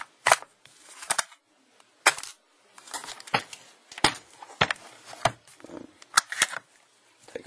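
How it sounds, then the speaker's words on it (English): Magazine pulled from a WE SCAR-L airsoft rifle, heard as a string of sharp, close plastic and metal clicks and clacks at irregular intervals, with quiet handling rustle between them and no talk. "Take out the mag"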